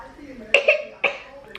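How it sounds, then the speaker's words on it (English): A child coughs a few times in quick succession, short sharp bursts close to the microphone with a brief pause between them. "How do you cough properly?"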